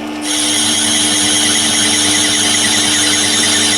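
Myford lathe taking a screw-cutting pass with the half nut engaged, starting abruptly and running as a loud, steady mechanical hum with constant tonal whine and faint rattle, close and alone.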